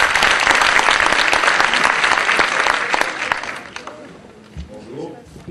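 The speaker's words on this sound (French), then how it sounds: "Yallah, applaudissez." A conference hall audience at an entrepreneurship plenary in Morocco breaks into dense, loud applause that thins out and fades after about four seconds, followed by a few stray sounds and a voice.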